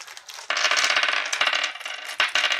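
Plastic dice for the Zombicide Black Plague board game clatter and rattle onto a table in a bright, busy burst of rapid clicks lasting a couple of seconds, close by.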